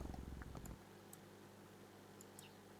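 A soft, low purring of a cat in a video game rumbles briefly at the start, then fades into quiet background hiss with faint clicks.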